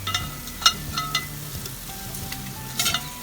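Crispy pork lechon sizzles in a turbo broiler as it is turned, with a low frying hiss, a few sharp clatters of handling, and steady tones underneath.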